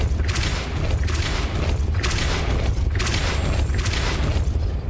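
Depulso spell effects cast repeatedly in the video game Hogwarts Legacy, giving three loud booming, whooshing bursts at a steady rhythm over a dense, continuous game soundscape with no talking.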